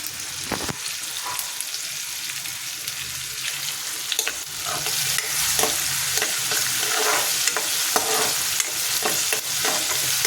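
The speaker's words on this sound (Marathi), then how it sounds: "तेलामध्ये थोड्या वेळेला भाजून घ्यायचं" Spring onion greens sautéing in oil, close steady sizzle punctuated by scraping and clanking of a spoon stirring the pan, growing a little louder midway.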